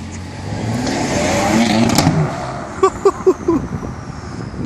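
A brand-new BMW M3 fresh off the delivery truck, its exhaust giving a moderate rumble that swells once, then a few quick pops near the end.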